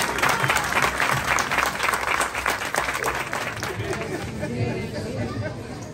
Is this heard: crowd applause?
yes